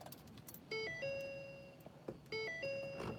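Inside a new truck cab, an electronic vehicle chime plays a short sequence of clear bell-like tones, stops, then repeats the same pattern, with a few soft clicks and rustles in between.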